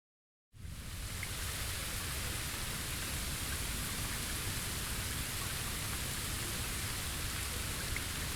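Steady, dense rainfall from the game Bleach Rebirth of Souls hisses in without a break after a short silence, an even wash of drops on surfaces with no voices.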